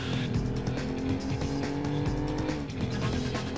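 A Corvette race car in Need for Speed IV, its engine droning loud and continuous while tires squeal and skid through a slide, with no voices.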